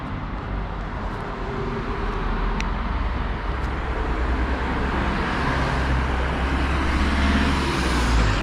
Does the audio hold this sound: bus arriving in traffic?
yes